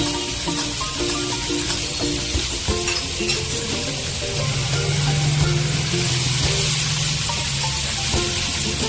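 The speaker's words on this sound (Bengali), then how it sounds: "এর সঙ্গে অ্যাড করছি 2 বড় সাইজের পেঁয়াজ, যেটা আমি আগে থাকতে কুচিয়ে রেখেছি।" Two large chopped onions sizzle and fry in spice paste for a Bengali onion curry, a loud, continuous crackling hiss with a faint tonal background and no talk.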